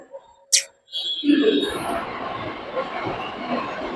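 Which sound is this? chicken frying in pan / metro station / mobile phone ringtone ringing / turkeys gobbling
metro station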